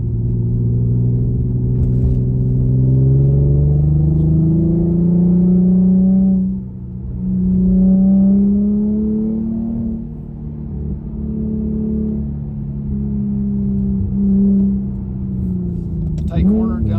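An Infiniti Q50 driven with paddle shifters holds third gear through corners, its engine droning and rising in pitch as it winds out and then dropping on a downshift, and someone talks over it throughout.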